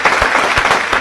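Steady, dense applause from a studio or stage audience fills the whole second at close range, with no talk over it.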